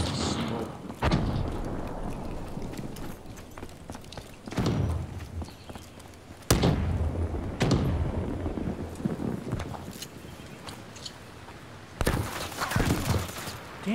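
Gunfire in the Black Ops III PC beta comes as several sudden bursts and single shots, loud and close, over steady game background noise.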